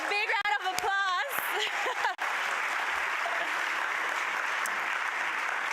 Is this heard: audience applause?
yes